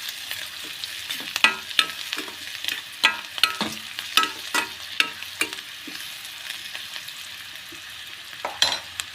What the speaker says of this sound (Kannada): ನಂತರ 1 ಟೇಬಲ್ ಸ್ಪೂನ್ ಆಗೋವಷ್ಟು ಅರಿಶಿನ, ಇದಿಷ್ಟನ್ನು ಹಾಕಿಬಿಟ್ಟು ನೀಟಾಗಿ ಮಿಕ್ಸ್ ಮಾಡ್ಕೊಳ್ಳಿ